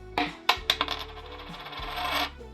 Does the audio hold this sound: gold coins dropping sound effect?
yes